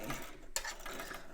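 A sewing machine back stitching fabric while stitching a dress collar, a steady close mechanical whir with a sharp click partway through as the stitch direction changes, no talking.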